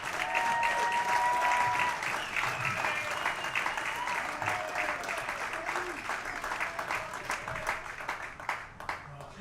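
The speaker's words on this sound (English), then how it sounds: "Let's give a huge round of applause for Anthony Hoagie." A crowd at a Legion baseball hall of fame ceremony applauds continuously, with dense, steady clapping that fades slightly toward the end, heard at moderate distance with faint voices and a few whistles underneath.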